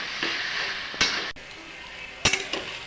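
Hilsa fish head cooking with taro leaves in a pan, a soft steady sizzle with a few sharp scrapes and clinks of a spatula stirring against the metal, close.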